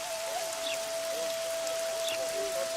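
Steady rain hisses and patters throughout in The Witcher 2, a dense even wash of drops with a faint tonal hum underneath and no voices.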